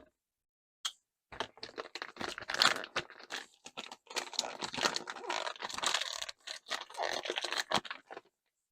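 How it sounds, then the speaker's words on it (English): Thick clear plastic bag around a respirator filter is cut open and unwrapped, a quick snip followed by a dense run of close crinkling and crackling plastic handling. "I'll go ahead and just cut the seal on this clear plastic bag that it's in."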